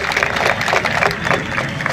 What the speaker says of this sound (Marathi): पोलीस खात्याचा व्यक्तिगत जोरदार टाळ्या अभिनंदन करा सगळेजण